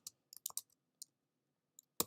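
Sparse keystrokes on a computer keyboard, a handful of crisp clicks in short irregular bursts separated by quiet gaps, close and faint against near silence.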